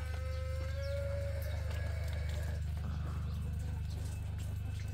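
Neighbour's chickens cluck and call in a rural yard beside a steady low hum, with one drawn-out rising call early on and scattered softer clucks after, moderately distant and faint.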